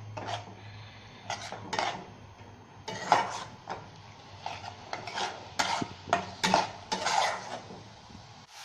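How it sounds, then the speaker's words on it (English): Green chili and cumin paste sautéing with chicken for korma, a spatula scraping and clanking against the pan in repeated strokes over a low sizzle, close and without talk. "We can also add the green chili and cumin paste here so that it will get sauteed"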